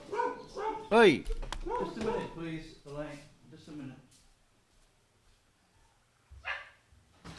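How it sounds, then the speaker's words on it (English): Dogs bark and yip during an online English lesson, sharp barks mixed with someone talking over them at first, then a quieter pause and a final short burst. "The dogs are barking."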